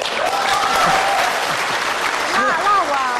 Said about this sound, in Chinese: 来来，掌声鼓励鼓励。